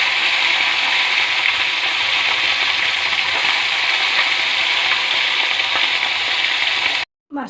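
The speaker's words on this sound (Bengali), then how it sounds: "মোরলা মাছটা ভাজা হয়ে গেছে" Mourala fish frying in hot oil in a pan, a loud, dense, steady sizzle held close and continuous, ending with a brief cut near the end, with no talk.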